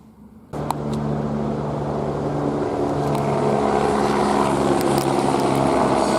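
A loud, steady engine drone with a rhythmic rotor-like hum sets in abruptly and slowly builds as a silver and blue LAPD helicopter draws closer overhead.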